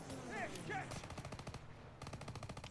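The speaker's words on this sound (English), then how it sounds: "That was just me getting completely fed up with, the constant, enemies firing." Enemy machine guns fire in Call of Duty: WWII, rapid rattling bursts close by with a short pause between them and faint chirping effects at the start.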